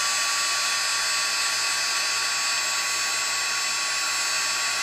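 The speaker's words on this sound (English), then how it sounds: "now we'll go ahead and do our heat embossing." A heat embossing tool blows a steady, whining stream of hot air over a handmade birthday card, a constant broadband hiss with a fan tone that holds unchanged and fairly quiet throughout, with no talking.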